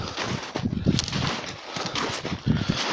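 A wild mustang horse moving close by in winter, with soft hoof thuds and clip-clops mixed with rustling and breathy snorts in the open air.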